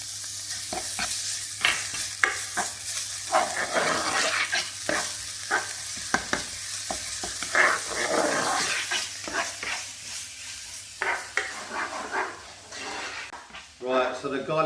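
Garlic ginger paste sizzling and frying in sunflower oil in a pan, steady crackle with stirring scrapes and clinks throughout, a voice talking over it, close and fairly loud.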